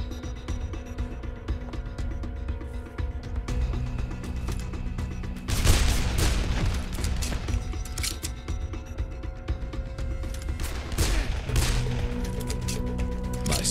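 Gunfire in the video game Dead Island, with a Magnum among the weapons: bursts of sharp shots and clattering mechanical reload clicks rise over a continuous game soundscape, the heaviest volley coming midway.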